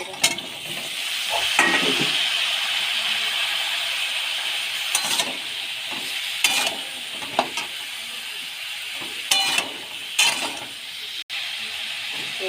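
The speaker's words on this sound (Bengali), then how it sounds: "টমেটো কুচি দিচ্ছি আর এই যে ঝিঙেগুলো সব দিয়ে দিচ্ছি" Chopped tomato and ridge gourd fry in a pan, a steady sizzle and hiss broken by repeated scraping bursts of stirring, close by, with a voice speaking at times.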